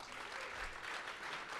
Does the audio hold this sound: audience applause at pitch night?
yes